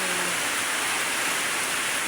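Heavy rain pours down steadily in Masbate, a dense, even hiss of downpour that stays loud and unbroken from start to finish with no voices on top.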